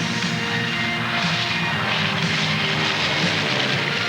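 A Hawker Hunter jet roars past loud and close, a dense, steady wash of engine noise holding strong for about four seconds with no voices.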